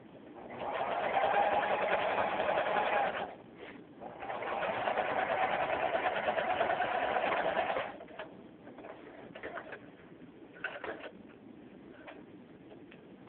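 A sewing machine stitches a seam in two sustained runs of about three and four seconds, separated by a short pause, then falls to quiet, intermittent clicking and handling noise.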